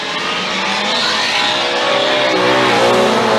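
A Formula Drift car in a 2014 Atlanta battle, driven by Conrad Grunwald, roars into a corner, its engine screaming and its tires squealing. The sound is loud, close and unbroken.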